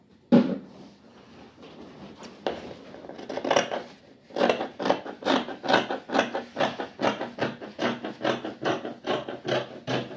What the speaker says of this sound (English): So I'll just cut again.